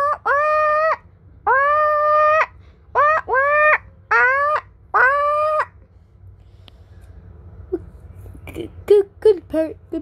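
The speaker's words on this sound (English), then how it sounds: "Come on, parrot. Don't make any sounds." A parrot in a Plants vs Zombies game gives six loud, harmonic squawking calls in quick succession, then falls quiet apart from soft rustling and a few short clicks.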